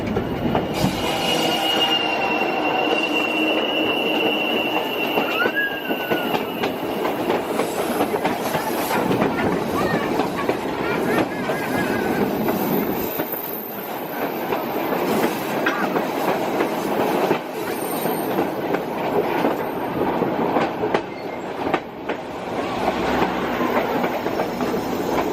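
Continuous rumble of the White Pass and Yukon Railroad train near Skagway, Alaska, riding the rails, with rhythmic clatter over joints and occasional squealing wheels, heard from on board.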